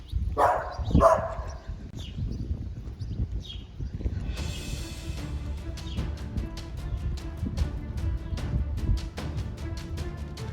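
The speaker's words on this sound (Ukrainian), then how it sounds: "Вже так страшно, така велика собака." A large dog's bark or two rings out near the start, followed by a steady stretch of clopping hoofbeats and outdoor bustle.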